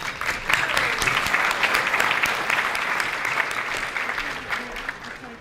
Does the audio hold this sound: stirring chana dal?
no